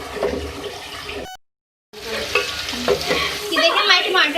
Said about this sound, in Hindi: ये देखें, हमारे टमाटर जो है ये फ्राई हो रहे हैं।